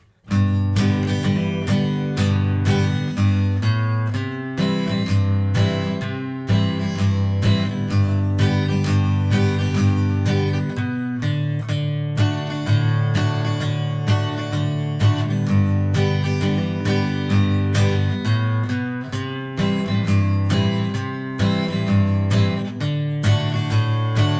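Strummed guitar plays a rhythmic chord pattern from the verse of a song continuously for the whole stretch, steady and full, with no voices.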